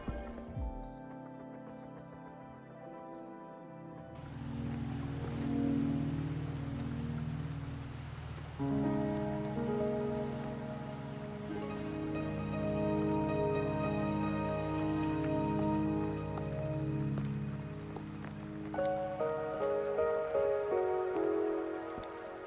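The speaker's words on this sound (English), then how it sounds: "Are you trapped here by the rain?" Rain falling in the video game Wuthering Waves, a soft steady patter of drops on surfaces that starts after a short musical intro and continues under layered game music throughout.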